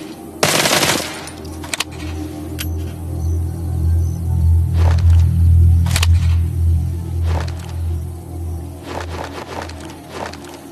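Rapid gunfire rings out as someone empties a 25-round magazine, with a sharp opening burst, scattered single shots and heavy rumbling blasts spread over about ten seconds, loud and close.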